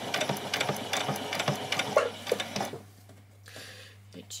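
A sewing machine runs a tacking stitch along a doll dress ruffle, a fast close mechanical rattle that stops after about three seconds, with a voice talking over it and a low steady hum beneath.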